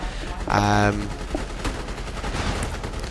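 Gunfire rings out in the online shooter MAG, a rapid burst of automatic shots followed by scattered single cracks and impacts, while someone talks over the action.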